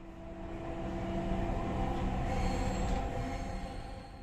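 A Dhaka metro rail train running at night on the last service from Motijheel to Mirpur, heard from inside as a steady low rumble and hum that swells slightly and then eases, with no talking.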